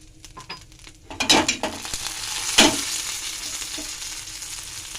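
Dried red chillies and black cumin hit hot oil in a wok as a tempering, bursting into a loud crackling sizzle with a few sharp spatula clinks and scrapes, then settling into a steady fry.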